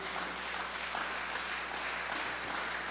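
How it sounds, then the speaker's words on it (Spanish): Church congregation applauding together during a Spanish-language sermon, a steady dense wash of many hands clapping at moderate level throughout, with no speech over it. "Iglesia, denle un aplauso al Rey en este lugar."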